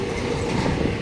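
An Indian Railways train runs through forest toward Golma station, its steady, dense rumble and rattle of rolling wagons loud and close throughout, with no pause.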